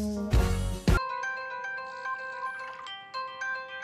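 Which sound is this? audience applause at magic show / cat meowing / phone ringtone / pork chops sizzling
phone ringtone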